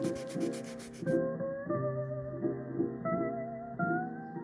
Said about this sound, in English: I'm gonna sand that edge just to make sure the glue really adheres.